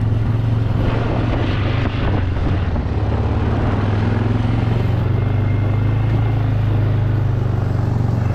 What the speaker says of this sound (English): Alright, and now I'm driving in.